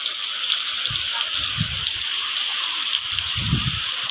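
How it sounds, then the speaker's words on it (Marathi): Heavy rain pours down steadily outside a village house, a dense continuous hiss of water with a few low thuds and rumbles breaking through underneath. "एवढा जोरात पाऊस येतोय ना"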